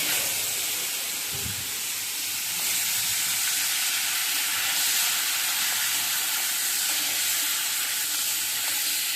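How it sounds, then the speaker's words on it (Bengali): Fish heads frying in hot oil, a continuous close hissing sizzle at moderate loudness with a soft thump near the start and faint stirring, no voices. "এখন আমি মাছগুলি ভেজে নেব"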